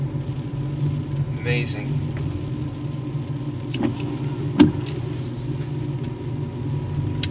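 Car climbing the mountain road up Roan Mountain in Tennessee, heard from inside the cabin as a steady low engine and road rumble, with a few light clicks and a person talking over it.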